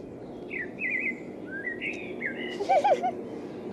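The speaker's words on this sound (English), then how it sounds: "That's a blackbird." A blackbird sings fluting, warbling phrases during the spring dawn chorus in Saltwell Park, several clear near-to-mid-distance song bursts over a steady low background hum, with no talking.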